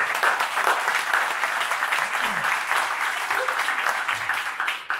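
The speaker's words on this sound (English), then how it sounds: "I think this deserves a big round of applause" Audience applause at a startup pitch event, a dense, steady round of clapping from a roomful of people that holds strong for several seconds before easing slightly at the end.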